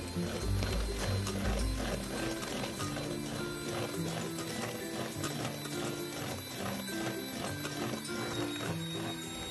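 An electric hand mixer whirs steadily with a continuous rattling drone as sugar is beaten into cake batter for a cassava tape pudding, close and fairly loud throughout.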